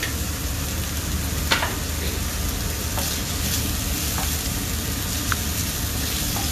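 Ground meat browns in a skillet with lime zest, ginger and garlic, giving a steady close sizzle and fry hiss. A few scrapes of stirring break through it, with no one talking.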